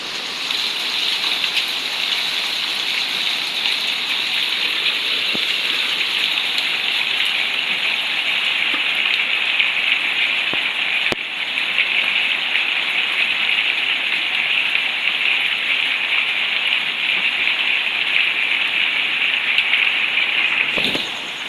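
Heavy rain pouring down continuously through the night, a loud, unbroken hiss of water with a constant bright wash and no pauses, lasting over twenty seconds with nothing else standing out.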